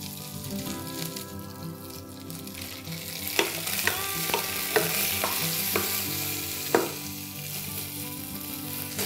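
Chopped tomato frying in sesame oil in a pan along with mustard seeds, cumin, onion and green chilli, a steady sizzle with a few sharp stirring clinks under background music, no talking.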